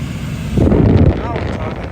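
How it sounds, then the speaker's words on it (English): Air conditioning in a 2024 Rivian R1S SUV starting up, a steady broadband rush of airflow from the vents that jumps in strength after a moment and keeps blowing, close and fairly loud, with a voice briefly over it. "let me turn it on so you can see how powerful the AC is"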